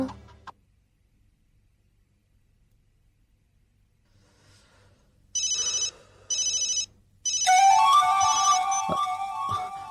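A mobile phone rings in short electronic bursts after a quiet stretch, then a sustained, louder melodic ringtone plays on without any talking.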